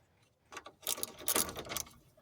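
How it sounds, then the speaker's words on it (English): Several quick, sharp knocks from a dead blow hammer land while a 4WD Toyota Tercel wagon's lower ball joint is being seated, clustered in a short burst close by, with no talk. "A little bit of dead blow action here."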